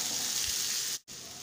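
Paneer fries in a pan for chilli paneer, giving a dense, steady hiss that is loud and close, with a brief cutout near the end before the sizzle resumes.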